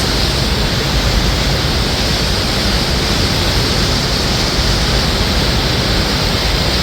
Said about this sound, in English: That is the waterfall, you guys.